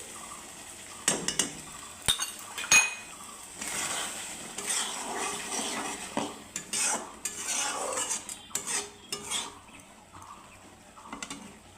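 Spoon scraping and clinking in a pan as potato poppy seed curry with raw mustard oil is stirred, irregular metallic scrapes and knocks close up with no talking.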